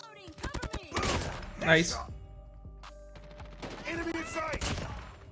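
Bursts of rapid gunfire from the DAMASCUS HVK rifle in Call of Duty Mobile crack out in quick volleys, mixed with game effects, while a player talks over the action.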